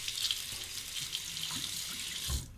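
A faucet runs steadily as a shaving razor is rinsed under tap water, a continuous close hissing splash with a brief knock near the end.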